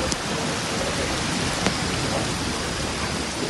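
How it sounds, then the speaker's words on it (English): Heavy rain pours down in a flash flood storm in Batman, Turkey, a dense, steady roar of water with faint distant thunder underneath, continuous and unbroken. "Due to the downpour"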